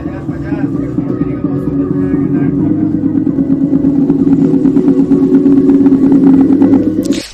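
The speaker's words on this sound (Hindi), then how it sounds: "यहाँ पे ये तो हो गया बेस की आवाज़" A repaired Philips 2.1 home theatre system plays a loud, booming bass-heavy sound with a steady throbbing pulse. It is close and continuous for several seconds, then cuts off.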